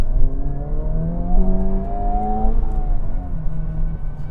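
A car engine revs steadily, its pitch climbing and holding high before easing back, loud and close with a smooth, sustained whine.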